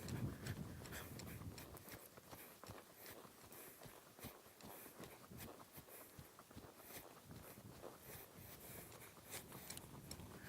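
A horse trotting a circle under a rider in a schooling session, with steady rhythmic hoofbeats on soft footing at moderate distance, quiet overall and without talk.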